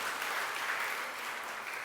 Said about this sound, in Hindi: एक बार तालियां तो बजा दो इसके लिए।